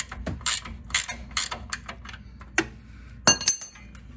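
A ratchet wrench working loose a 21 mm rear control arm bolt on a car, with quick bursts of metallic clicking, several short ratcheting runs separated by pauses, close and crisp.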